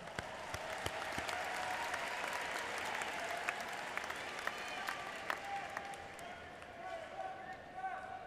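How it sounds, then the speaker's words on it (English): Audience at a high school graduation ceremony applauding the faculty, a steady, sustained wash of clapping from a large crowd in a big hall, with scattered sharper claps standing out and voices mixed in underneath. "Let's give our faculty a round of applause."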